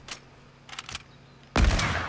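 Gunfire in the mobile Fortnite video game: a couple of faint, short shots early on, then a loud, dense burst of shooting that fills the last half second.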